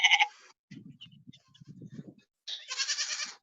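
Goats bleat loudly in two bursts, a short one at the start and a longer wavering one near the end, with quieter low animal grunts and shuffling between them.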